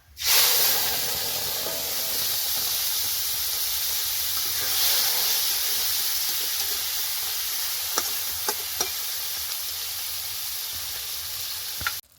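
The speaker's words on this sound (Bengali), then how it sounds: "এবার কড়াইটা বসিয়ে দিয়েছি তেলও গরম হয়ে গেছে ওদিকে আমার ম্যারিনেট করা লোটে মাছটা এবার বসিয়ে দেবো" Marinated Bombay duck fish sizzles in hot oil in a wok, giving a loud, steady hiss throughout with a few sharp crackles and pops near the end.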